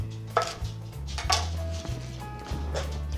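A knife chops through a stack of salad vegetables on a cutting board, giving a few sharp, close knocks spaced apart over a low steady hum, with no talking.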